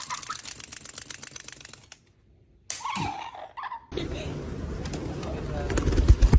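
Pigeons coo at a pigeon tower in a short burst of cooing and rustling amid clicking and noise, with a gap of near silence, then louder outdoor sounds as a person speaks.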